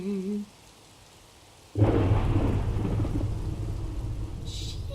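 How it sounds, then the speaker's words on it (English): Minecraft rain pours steadily with a low thunder rumble rolling in, loud and continuous after a short quiet stretch, with a brief hiss near the end. "Why does it always have to be raining?"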